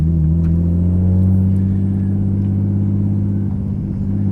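An RB25-swapped Nissan 200SX pulling away, its engine giving a loud, steady, low droning rumble heard close up from inside the car, rising slightly toward the end, with no voices.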